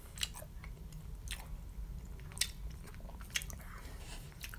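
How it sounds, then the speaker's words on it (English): Red Lobster coconut shrimp is chewed and bitten up close, giving soft, moist crunches and squishy bites that repeat through a faint background with no talking. "So let's try the coconut shrimp."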